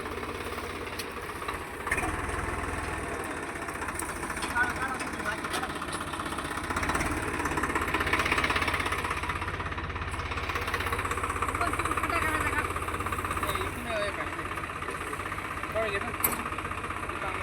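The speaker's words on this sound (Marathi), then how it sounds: "आपला ट्रॅक्टर आला इकडे बघा" A low, steady tractor engine idle rumbles close by for the whole stretch, with people talking over it, before a soybean harvest.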